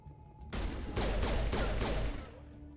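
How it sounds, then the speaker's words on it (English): Heavy pistol fire in the video game Mass Effect, a loud sustained burst of rapid shots lasting under two seconds, with quieter game ambience before and after. "Oh, beefy pistol."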